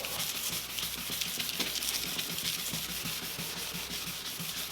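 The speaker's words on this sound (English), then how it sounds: "And basically just keep sanding even, straight lines." Steady, close-up sanding of a Porsche 996 headlight lens: a continuous gritty rasp of abrasive rubbed back and forth over the hard plastic surface, with no voices.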